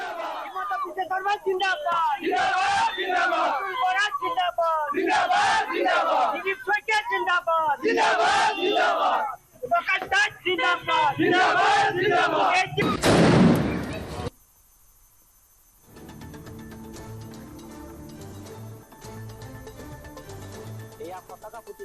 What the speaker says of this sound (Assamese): দলীয় কৰ্মীসকলে ফটকা ফুটাই দিলে প্ৰকাশ দাস জিন্দাবাদ ধ্বনি।